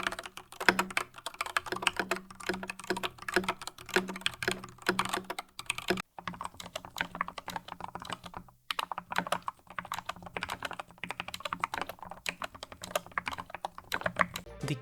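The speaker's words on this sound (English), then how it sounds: "Finally, I reassembled the keyboard and was able to test it out." Soft, quiet keys are typed on a reassembled computer keyboard, giving a continuous close patter of keystrokes with brief pauses near the middle, and no talking.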